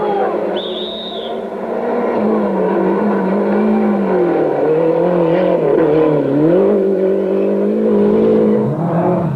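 Italian rally cars race on a 1989 World Rally Championship stage in Italy, a loud, close engine roaring and revving with shifting pitch as the car accelerates and changes gear, with no talk.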